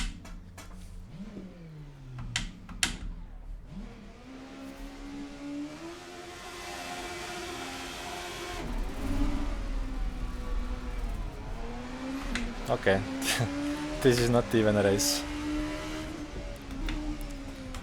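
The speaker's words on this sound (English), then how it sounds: "the noise of the car. Judd V8 with no restrictions, it's quite loud" Oldbac Kalana race car with an unrestricted Judd V8 in Assetto Corsa, the engine revving up and down and holding a loud, rising drone under a short spoken remark.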